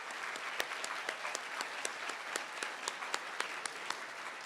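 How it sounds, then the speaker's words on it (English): Applause for 22 new Sigma inductees at a nursing pinning ceremony, steady rapid clapping from the seated audience with a few crisp claps popping out, even and somewhat distant. "So let's give these 22 new inductees another round of applause."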